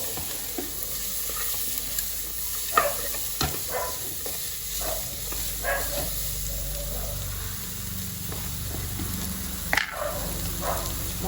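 Chopped carrots stirred as they fry in a pot for an Assamese vegetable pulao, a steady close sizzle with scattered scraping clicks of the spoon throughout, no talk.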